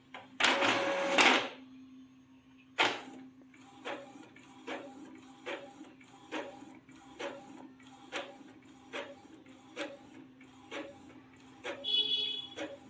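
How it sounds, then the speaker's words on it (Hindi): An Epson L3151 inkjet printer prints a colour page: a loud mechanical burst, then a steady series of regular clicking feed strokes over a low motor hum, close and without talk. "अब देखिए आप प्रिंट आउट निकलेगा।"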